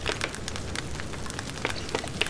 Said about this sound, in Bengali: এই পিঠেগুলো সুন্দর করে ভেজে নিচ্ছি